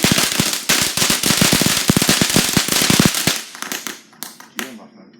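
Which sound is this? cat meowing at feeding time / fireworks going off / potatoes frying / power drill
fireworks going off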